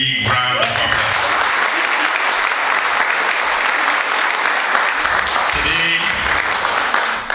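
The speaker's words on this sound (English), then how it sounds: "I want you all to give them a big round of applause" A church congregation claps steadily and loudly for the choir, the dense applause running unbroken for about seven seconds, with a few voices briefly audible near the start and end.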